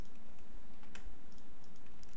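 Typing on a computer keyboard during a coding session, a faint run of soft, scattered key clicks that stays low and steady throughout.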